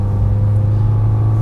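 A BMW E36 318is with its later M44 twin-cam 16-valve four-cylinder runs at a steady drone, a low continuous engine hum heard close from inside the car, with no speech over it.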